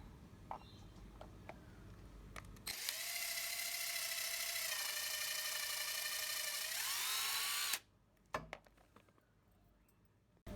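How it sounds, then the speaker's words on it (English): An electric drill bores through two pieces of wood taped together, giving a loud, steady whine of about five seconds that ends abruptly, with brief handling clicks before and after. "I've taped my wood together so it doesn't slip while I'm drilling."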